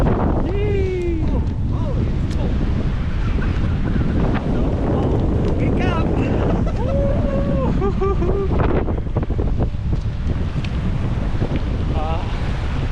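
Steady wind buffeting the microphone outdoors in the Oregon mountains, a constant broadband rush, while a person talks and exclaims in Tagalog and English over it throughout.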